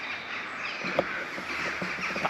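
Crows cawing in a dark forest at night, a thick continuous chorus of many birds with a few sharper calls standing out near the microphone.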